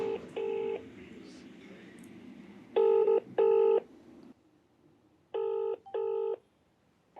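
A telephone dials and rings for a call, sounding as repeated paired electronic ring bursts in three groups with quiet gaps between, clear and fairly close, with low voices faintly underneath at first.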